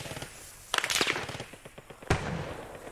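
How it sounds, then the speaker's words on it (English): Machine gun fire in the WWII shooter Post Scriptum: a cluster of loud, sharp bursts rattles out in rapid succession, then one more heavy crack follows a moment later, with the battle's background noise underneath. "Machine gun fire, don't know where from."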